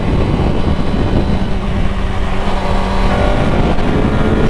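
A 600cc sport bike accelerates hard in fourth gear, its engine roaring loud and close with heavy wind rush, building steadily over a few seconds.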